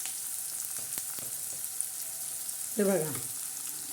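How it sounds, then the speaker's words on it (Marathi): Onion frying in a pan with chili powder gives a steady close sizzle that runs the whole time, with a few scraping stir clicks and a brief spoken phrase near the end. "आता हा कांदा परतत आहे छान असा मस्त"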